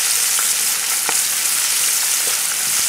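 Smelts fry in hot oil in a pan, a dense, even, close crackling sizzle with scattered sharp pops, loud and continuous with no talk.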